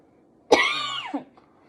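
A sick person gives a single harsh cough that slides into throat clearing, close and loud, lasting under a second against a quiet room.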